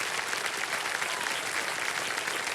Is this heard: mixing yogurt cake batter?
no